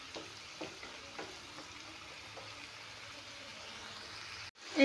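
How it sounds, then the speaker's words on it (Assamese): Fish head curry cooking in a pot on a gas stove, a steady soft bubbling and sizzling throughout with faint crackles, close and low in level, no voices. "এতিয়া অলপ টাইম উতল আহিব দিম।"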